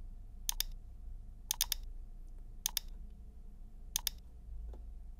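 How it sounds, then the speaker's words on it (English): A computer mouse gives four crisp double clicks spaced about a second apart, close and clear over a faint low hum, with no voices. "Left click on 28 by 28."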